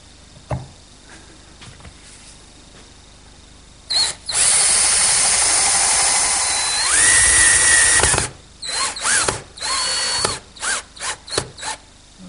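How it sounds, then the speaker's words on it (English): Power drill pre-drilling screw holes in wood for a Queen Anne table, a close, loud whirring run of about four seconds with the motor pitch shifting under load, then several short stop-start bursts and a few clicks. "I'll pre-drill for the screws and secure it"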